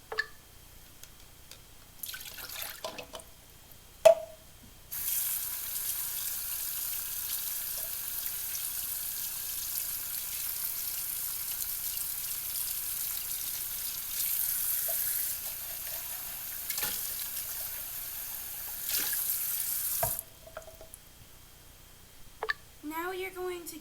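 A paintbrush swished and rinsed in a cup of water while painting a watercolor flower, giving soft, continuous watery sloshing and light splashes for about fifteen seconds, with brief clinks and taps before and after.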